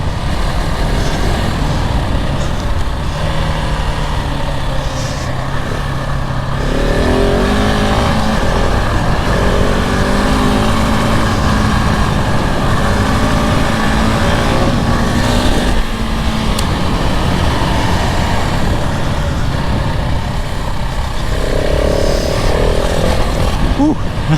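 2022 KTM 690 Enduro R motorcycle engine revving and pulling hard while riding, loud and continuous with rising and falling pitch under wind noise, and a rider talks over it.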